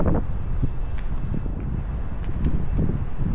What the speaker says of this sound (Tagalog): Hangin ah.